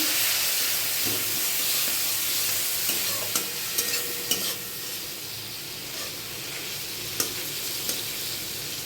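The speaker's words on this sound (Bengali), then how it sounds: "মশলাটাকে খুব ভালো করে কষে নেবো" Spice masala with ground cumin and a splash of water cooking down in a pan for a raw banana dish, a loud steady hiss and sizzle with occasional spoon scrapes against the metal, close and alone.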